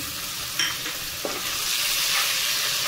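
Rupchanda fish curry with chopped tomato stirred in a pan, a soft steady sizzle running throughout with a couple of brief scraping strokes near the start.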